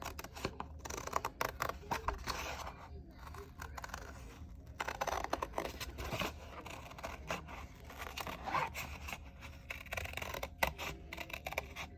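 Scissors snip steadily through material for a Bucilla Halloween street sign craft, a quiet close run of crisp cuts and small rustles with no talking.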